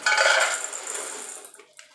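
Freshly fried dalmoth chanachur poured into a metal bowl, a dry rattling rush that is loudest at the start and then thins out into scattered patters.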